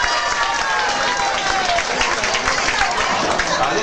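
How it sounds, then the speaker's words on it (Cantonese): Audience applause during a Maoshan Taoist dharma-hall gathering: dense, steady clapping from a crowd, sustained and fairly loud throughout without breaks. "俾啲掌聲佢，俾啲掌聲佢"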